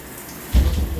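Water suddenly starts rushing from a leaking shower head halfway through, a loud, close, steady spray and splash after a moment of near quiet.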